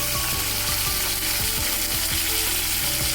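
Cumin, curry leaves and chili paste fry in oil, a steady crackling sizzle with a run of quick, regular spattering pops close by.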